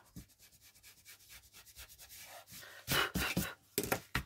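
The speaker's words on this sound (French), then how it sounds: "Moi, je vais gommer mes traits." Eraser rubbing out pencil lines on a paper card, soft rhythmic back-and-forth scrubbing strokes up close, faint at first and then a few louder, sharper rubs near the end.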